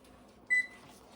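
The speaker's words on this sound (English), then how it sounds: "I'm going to set my timer for 2 minutes." A microwave oven gives one short, bright beep as its timer is set while caramel corn cooks, a clear single tone over a quiet background hum.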